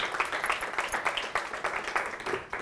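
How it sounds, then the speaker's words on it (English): An audience at an IIT Bombay alumni startup event claps in a brisk round of applause, a dense patter of many hands at moderate distance, fairly quiet and continuous with no speech over it. "A loud round of applause for Mr. Apurva Godbole."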